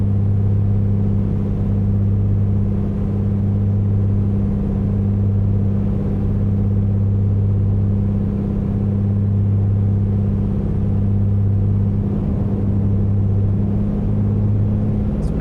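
A Comanche propeller plane cruising in Microsoft Flight Simulator 2024 gives a loud, steady low drone with a constant throbbing hum that runs unbroken and close throughout, with no talk over it.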